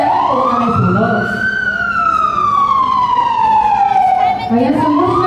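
A loud fire station alarm siren wails, rising and falling slowly, close by during a fire station drill in Muntinlupa, with a voice talking underneath.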